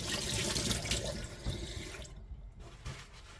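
Hot water runs steadily from a kitchen tap while hands are washed beneath it, a close hissing splash that briefly thins before carrying on.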